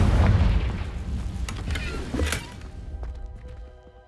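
A Confringo spell explosion in Hogwarts Legacy lands as a loud, close boom followed by a second burst and a fading rumble, with a short musical tone trailing off.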